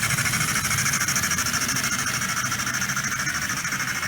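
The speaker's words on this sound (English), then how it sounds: "the chuffs are not at all synchronized to the driving wheels" A Bachmann 2-10-4 Texas model steam locomotive runs with a rapid, even mechanical chuff and whirring hiss, loud and close, steady throughout with a high squealing tone above, no talking.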